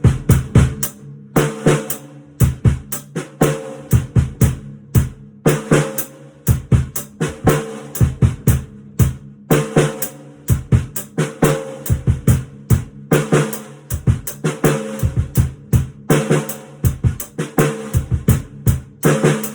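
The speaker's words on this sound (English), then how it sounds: "So just do the bass drums, then put the hi-hats in, then put the snare in." A drum kit plays a complex groove of bass drum, hi-hats and snare, with steady, dense, evenly repeating hits throughout and no talking.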